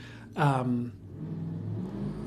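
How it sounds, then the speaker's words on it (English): A car engine revs outside, a loud rising rev swelling near the start and then settling into a steady mid-level rumble, with no talk over it. "sorry for the engine outside"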